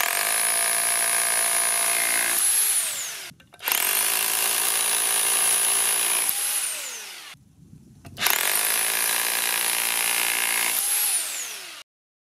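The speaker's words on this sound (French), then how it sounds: "Donc marteau perforateur 1500 watts" A 1500-watt hammer drill with a 16 mm bit powered from a LiFePO4 solar power station, running in three long loud whining bursts, each winding down before a short break.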